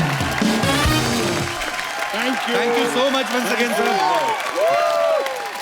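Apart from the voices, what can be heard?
studio audience applause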